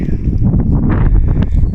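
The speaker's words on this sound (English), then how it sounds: "I hope the wind isn't too bad for you guys. It's a bit windy." Strong gusty wind buffets the microphone on an open golf course, a loud low rumbling roar that swells and dips with no clear voices.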